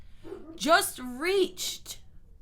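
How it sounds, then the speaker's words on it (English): A dog gives a couple of short, close barks and yips, mixed with a speaking voice in the middle of a podcast recording. "don't mind this damn dog, so annoying."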